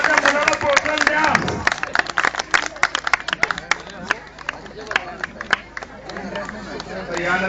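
Spectators clap for a children's karate demonstration, scattered and uneven claps mixed with crowd hubbub and voices, loudest at the start and thinning into sharper individual claps.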